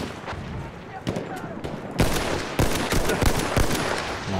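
Rapid bursts of gunfire in the video game Battlefield 1, close and loud, with dense overlapping automatic shots and sharp single cracks growing heavier after two seconds, under excited talk from players.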